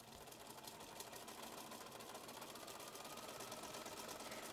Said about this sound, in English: then I'm ready to sew that side